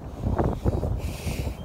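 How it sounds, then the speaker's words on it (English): Wind buffets an outdoor microphone in Manchester, with low, uneven rumbling gusts that thump and swell irregularly over a couple of seconds. "it's really windy"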